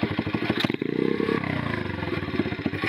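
A moped engine with a freshly adjusted carburetor runs close up, its rapid two-stroke putter steady and slightly uneven, with a brief rev near the start.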